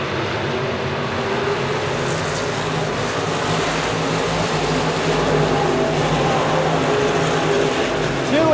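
Stock cars roar off together at Park Jefferson Speedway, a dense, steady engine drone from the field heading into turns one and two, loud throughout with no break.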